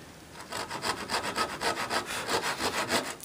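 A hand saw cuts wood along a knife wall while sawing a dovetail for a chest of drawers: close, steady back-and-forth rasping strokes in an even rhythm, about four per second, with no other sound.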